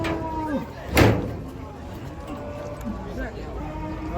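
Giant cattle being unloaded from a truck give several low, drawn-out moos at moderate distance, with a sharp metallic bang near the start and faint people talking in the background.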